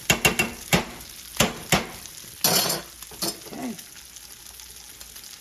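A whisk scrapes and clatters against a pan as garlic goes into Alfredo sauce, giving a run of quick metallic taps and scrapes followed by a softer sizzling stir, with a single brief spoken word.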